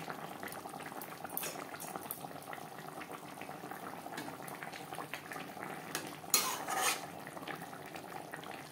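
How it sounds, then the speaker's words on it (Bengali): Katla fish curry in cumin paste gravy bubbles steadily in a pot, a continuous soft simmering hiss with occasional clinks of a utensil and a louder stirring clatter near the end. "গ্রেভির সাথে মাছ বেশ ভালো করে সেদ্ধ হয়ে গেছে।"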